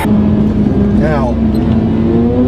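A 2012 Mazda 3 accelerating hard in a 0-60 mph test at high elevation: a loud, steady engine drone heard from inside, with a rough shift partway through and a voice talking over it.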